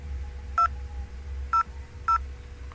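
Keypad dialing tones on an IP phone, three short distinct beeps spaced unevenly over a steady low hum, close and clear.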